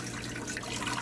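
Water pours steadily into an Instant Pot pressure cooker, a soft, faint continuous splashing trickle with no talk over it.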